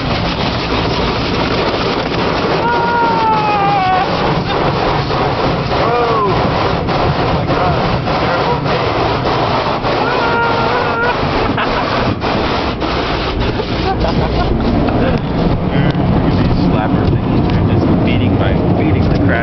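An automatic car wash sprays and scrubs a car in a continuous loud wash of water spray and rumbling brushes heard from inside the vehicle, steady throughout with faint squeaks.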